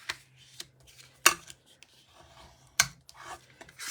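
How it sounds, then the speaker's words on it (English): A paper card's fold is burnished with quick, dry rubbing strokes, two sharp louder swipes standing out among softer scraping passes in a quiet room. "We'll burnish that fold really well"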